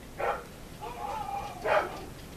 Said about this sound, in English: oh my god, my dogs are so loud